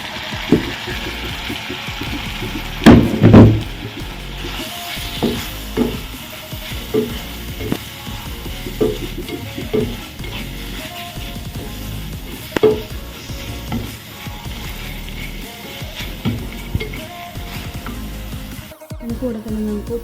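Coriander and turmeric powders stirred into a sizzling mackerel fish curry base with softened tomato, steady frying hiss throughout with scattered scraping and clinking of a spoon against the pan, a few louder knocks early on, no talking.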